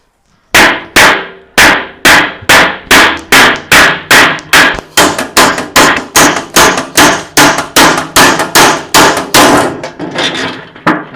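An empty metal oil tin struck with a hammer again and again while being cut apart, about two dozen loud, ringing metallic blows in a steady rhythm, close by and alone.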